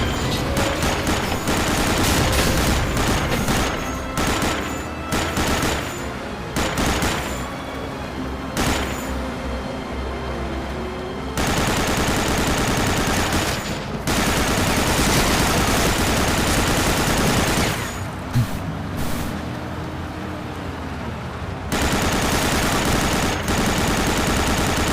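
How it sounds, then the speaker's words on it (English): Sustained machine gun fire in the video game Blade of Agony, loud continuous rapid bursts with brief pauses and gaps, dense and close, with engine-like rumble underneath. "Use a machine gun to destroy targets like that."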